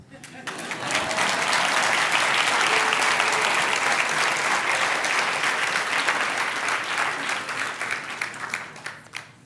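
An audience breaks into applause that swells quickly, holds as dense sustained clapping for several seconds, then thins out into scattered claps.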